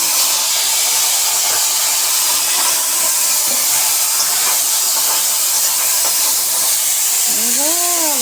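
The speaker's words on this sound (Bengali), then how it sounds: "এই যে চুনো মাছগুলো ভাজছি।" Small fish sizzle and hiss steadily as they fry in a hot pan at a home kitchen, a loud, continuous crackling spatter close by, with a brief voice-like tone near the end.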